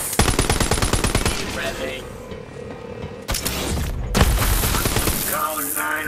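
Rapid automatic gunfire from the video game Borderlands 3, dense bursts with explosive booms and a brief pause mid-way, a voice speaking briefly over the shooting.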